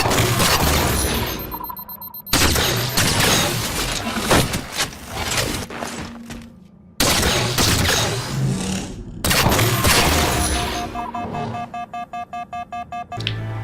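Promethean Light Rifle from Halo 4 firing repeated bursts, loud sharp energy shots in quick clusters separated by brief gaps, with electronic tonal chirps between volleys.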